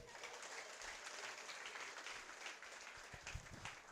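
Steady applause from a church congregation clapping for the Lord at a tenth-anniversary celebration service, fairly faint and sustained, with some low thumps mixed in.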